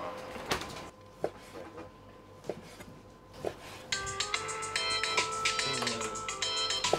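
Telephone ringing indoors, a faint repeating tone at first, then a louder electronic ringtone with bright stacked chimes over a low background hum.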